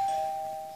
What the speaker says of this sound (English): That was just the doorbell.